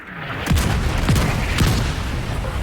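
Mortar fire in a video game, launched from a mobile unit near a shoreline: three heavy booming impacts about half a second apart, loud and close, over a dense rumbling background.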